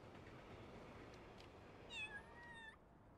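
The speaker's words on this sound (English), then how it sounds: "Will they pay attention to me if I meow?" A cartoon cat in the game Little Kitty Big City gives a short, clear meow near the end, rising then falling, over a quiet hiss of background sound.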